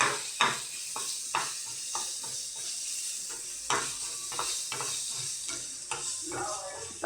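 Onions browning in a pan give a continuous sizzle, punctuated by regular scraping strokes and taps of a spatula stirring them.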